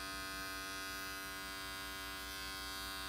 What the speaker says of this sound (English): And now we're going to close the clipper down all the way